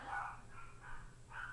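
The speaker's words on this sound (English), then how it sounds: "My dogs are barking." Dogs barking indoors in the distance, three short muffled barks spread across a quiet home, with no one speaking.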